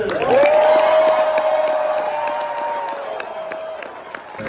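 A convention crowd gives loud, sustained applause and cheering for a child being honored, with a whoop or shout rising over steady clapping that slowly fades.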